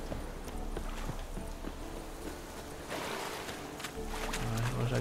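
Horse hooves clip-clopping in The Witcher 3, a steady rhythm of close hoof strikes with water and waves in the background and a broad wash of game ambience.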